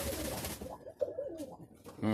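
Pigeons cooing outdoors in warm weather, soft throaty coos near the microphone against light background noise.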